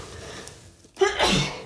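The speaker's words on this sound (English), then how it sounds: "I've been sneezing a little bit too." A single sharp sneeze bursts out after a short quiet pause, close and fairly loud, with a breathy tail that fades quickly.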